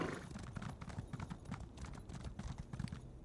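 Horse hooves clip-clop in a steady galloping rhythm in the video game Elder Scrolls Online, close and continuous throughout with no voices.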